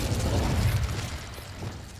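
The Incendio fire spell in Hogwarts Legacy erupts as a dense low whooshing rumble, loudest at the start and easing off over about two seconds.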